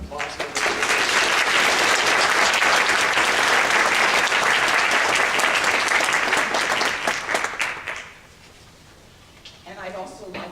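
Audience applause at an MLK Jr. commemoration gathering, steady and full for about eight seconds before fading, then a few scattered claps and a voice starting up.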